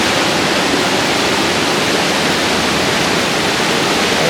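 Rushing water flowing in a rain-swollen stream at Siliguri where people are fishing, a dense, loud, steady broadband roar close by with no other sounds.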